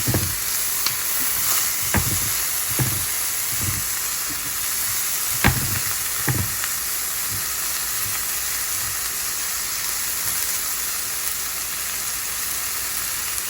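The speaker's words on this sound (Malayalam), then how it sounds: "മല്ലിപ്പൊടി, ഇളക്കി കൊടുക്കുക." Coriander powder, one and a half tablespoons, fries in a pan for a green peas egg masala, a constant near sizzle punctuated by repeated sharp knocks and scrapes of stirring, later settling into steady hissing.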